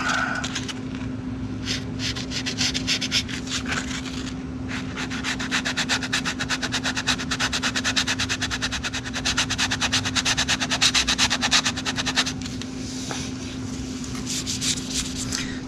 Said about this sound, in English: I'm gonna take my sanding sponge here